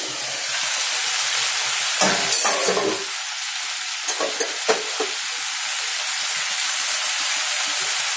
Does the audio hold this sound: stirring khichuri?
yes